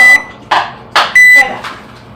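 A kitchen oven gives two high electronic beeps, one short and one longer, close and loud, while a person speaks between them.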